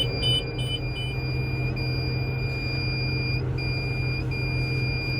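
The seed monitor on a sweet corn planter, out in the field, gives high electronic beeps that run together into long tones, heard close over a steady low tractor engine drone.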